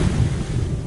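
Ocean waves in the video game What Remains of Edith Finch rush and churn in a loud, continuous roar of surf, with a gusty, wind-like wash throughout.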